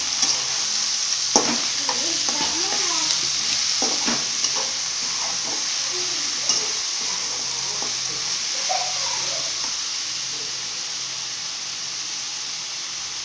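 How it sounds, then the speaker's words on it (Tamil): Small dried fish (chena karuvadu) are stirred and fried in a pan, with a constant sizzle under repeated scraping and clinking as the spoon moves through, fading toward the end. "கருவாடை நல்லா வணக்கி விட்டுக்கோங்க."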